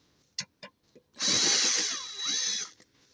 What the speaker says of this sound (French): visse le tout correctement. On rapproche déjà tous les boulons d'abord.